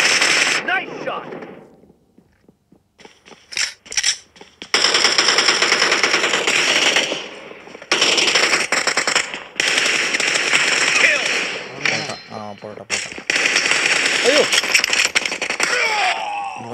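Gunfire from a shotgun and other weapons in a mobile shooting game, loud rapid bursts and single blasts in dense clusters, with short quiet gaps between exchanges and game voices and a player talking over them.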